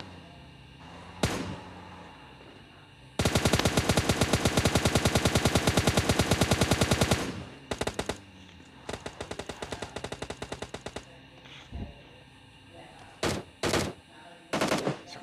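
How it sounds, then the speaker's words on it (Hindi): Bursts of automatic gunfire, with one long sustained rapid volley followed by shorter clusters and isolated single shots, loud and sharp against a quiet background. "यहाँ से फायरिंग वायरिंग हो रही है"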